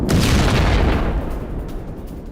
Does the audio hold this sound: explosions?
yes